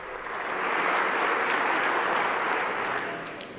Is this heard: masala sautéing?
no